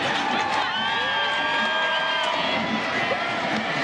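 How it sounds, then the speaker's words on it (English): A sellout stadium crowd in Chicago at the 1999 Women's World Cup match between the USA and Nigeria roars in a dense, sustained wave of cheering and whoops, with a commentator talking over it. "The sellout crowd got to watch it."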